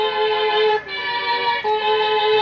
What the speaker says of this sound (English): Then you got the famous violin.